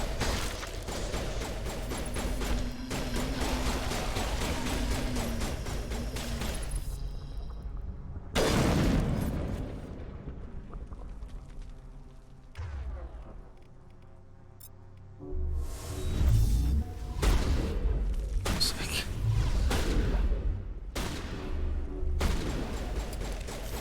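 Gunfire and heavy booming blasts in a Mass Effect firefight, loud bursts of shots and explosions that come and go, with a quieter lull in the middle before the fighting picks up again.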